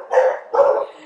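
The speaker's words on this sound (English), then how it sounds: "My dogs go stark raving mad when someone knocks on the door." Dogs barking loudly and excitedly at a knock on the door, two close, sharp bark bursts in quick succession with no other sound.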